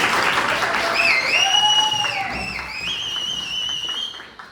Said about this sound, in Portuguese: A salva de palmas aí, pessoal.